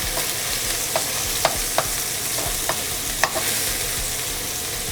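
Salmon croquettes sauté in a hot pan with a continuous crackling sizzle, broken by several sharp utensil taps and scrapes spaced a second or so apart, heard close and alone.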